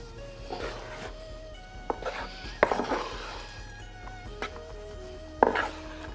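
Sushi rice being stirred and mixed with vinegar in a kitchen bowl, giving soft scraping and a few sharp knocks of the utensil against the bowl at irregular moments, under a low steady background.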